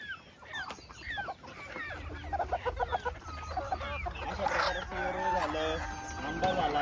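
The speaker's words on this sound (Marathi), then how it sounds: "तर बघू शकता पेरू किती आवडीने पक्षी खातात" Several chickens cluck busily and continuously while eating guava, with scattered higher calls and an occasional crow mixed into the flock's chatter.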